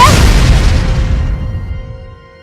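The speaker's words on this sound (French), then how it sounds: "Explosion!" A loud boom rings out in a cartoon-style explosion sound effect, a dense burst that rumbles and slowly fades over a couple of seconds.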